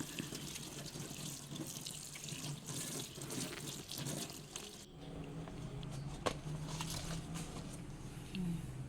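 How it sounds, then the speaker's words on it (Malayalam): Cheera chembu leaves being washed under a running kitchen tap, a steady close stream of water with splashing and patter as the leaves are handled, alone without talk. "ഇനി ഇതിൻ്റെ ഇല നല്ല പോലെ കഴുകണം പൊടിയും മറ്റുമുണ്ടെങ്കിൽ നല്ല പോലെ കഴുകി വൃത്തിയാക്കി എടുക്കണം"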